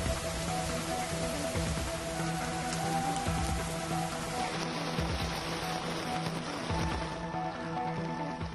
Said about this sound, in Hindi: दिन भर कभी झमाझम तो कभी रिमझिम बरसात।